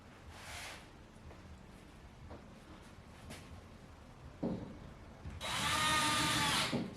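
A power drill driving screws up into wood through pilot holes whirs in short bursts, then a longer loud run near the end, close by amid faint workshop rustling.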